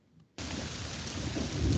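In a radio commercial, steady heavy rain with a rumble of thunder bursts in suddenly and builds, loud and close with no talk.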